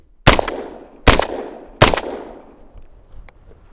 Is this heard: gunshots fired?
yes